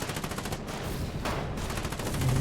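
Gunfire in the war video game Foxhole, rapid bursts of shots crackling in quick succession at moderate loudness, fluctuating over a steady battle din, with no talking.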